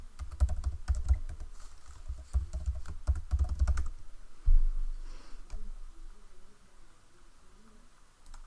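Close, loud clatter of keystrokes on a computer keyboard as sign-in details are entered, dense for about four seconds then giving way to quieter handling and a faint voice.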